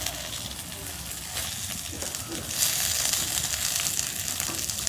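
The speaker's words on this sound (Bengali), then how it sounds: "আপনার ভাবি দেখেন কি সুন্দর করে নতুন আলু দিয়ে চপ বাজতেছে" Potato chops made with new potatoes in gram flour batter fry in hot oil with a close, dense sizzle that swells louder partway through, while voices talk over it.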